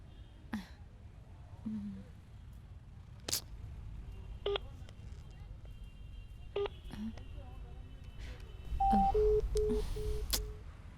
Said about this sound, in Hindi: अभी फोन करती हूँ उसको।